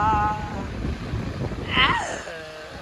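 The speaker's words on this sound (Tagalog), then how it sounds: "Hangin na, mahangin na." Strong wind buffets the microphone in a steady low rumble, with brief voices and a whistling tone rising over it near the end.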